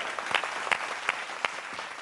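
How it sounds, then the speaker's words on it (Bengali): Loud, steady applause from a game show studio audience, with sharp individual claps standing out at a regular rhythm over the dense crowd clapping. "জোরে হাততালি"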